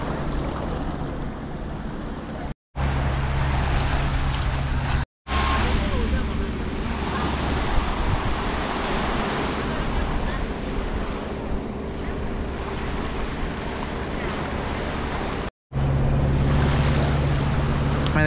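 Surf washing ashore on the beach at Playa del Carmen, a steady broad roar of breaking waves mixed with wind buffeting the microphone, continuous throughout apart from a few brief dropouts.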